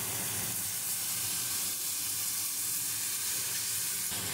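Tomatoes frying with moringa in a pan for an Assamese-style gravy, giving a steady, even sizzle that hisses continuously at close range with no voices.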